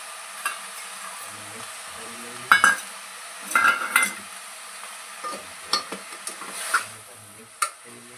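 Tomato being stirred into greens frying in a pan, soft sizzling throughout with intermittent scraping and clinking of a spoon against the pan at an irregular pace.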